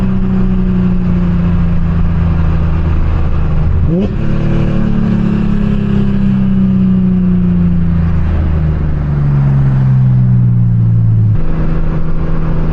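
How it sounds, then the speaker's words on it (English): A car engine revs and accelerates up close, pitch climbing sharply around the midpoint and then easing back, with a steady rumble under the whole stretch and no talk. "It's always fun to kind of push on the accelerator a little bit."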